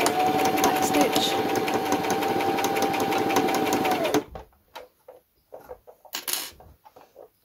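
A sewing machine stitching a face mask runs in a fast, even mechanical whir for about four seconds, then stops, leaving quieter handling clicks and rustles of fabric.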